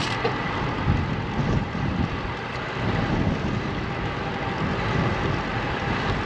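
Steady wind rushes past while riding across Lake Houston, a constant broadband roar buffeting the microphone with no pauses.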